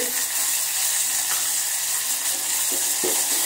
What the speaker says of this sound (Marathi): आणि हे 2 मिनिटं आपण परतून घेऊया।